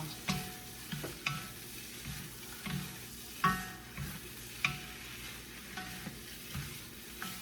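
Onion being stir-fried for fried rice in a home kitchen: a steady sizzle broken by repeated, roughly rhythmic scraping strokes of a spatula against the pan, close and moderately loud, with no talking.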